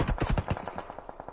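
Rapid bursts of video game gunfire in an online shooter match, a dense rattling volley at first, then thinning into scattered single shots, loud and close.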